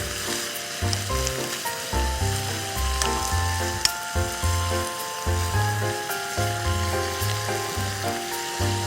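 Burdock stir-frying in a reducing seasoning sauce with dried chili over raised heat, a continuous close sizzle with soft stirring scrapes and a low background hum.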